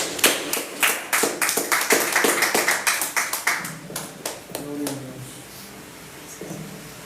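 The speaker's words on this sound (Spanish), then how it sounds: "Quiero le brindar un aplauso al Señor" Rhythmic group clapping in praise of the Lord at a Holy Week worship service, steady and fairly close for several seconds, then thinning out as faint singing or voices rise underneath.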